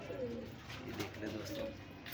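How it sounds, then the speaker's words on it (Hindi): Pigeons kept in a loft coo softly at close range in low, rolling calls, with a faint voice murmuring underneath. "और बड़े बड़े लाजवाब कबूतर भी हैं"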